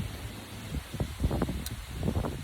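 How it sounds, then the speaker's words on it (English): Outdoor wind buffets the microphone on a gusty day, a steady low rumble that swells in uneven gusts, with faint rustling on top and no speech. "I hope you can hear me over the wind."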